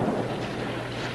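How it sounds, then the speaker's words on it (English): A low, rumbling blast from a logging flume explosion in a timber-country setting, with a broad, steady roar that sustains without a sharp attack and fills the short span alone, no voices. "I mean that explosion"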